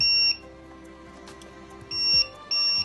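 A Tick Time hexagon flip timer sounds its alarm: a loud, shrill electronic beep that cuts off, pauses, then returns in short repeated bursts, close and alone.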